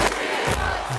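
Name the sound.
crowd cheering played over the live stream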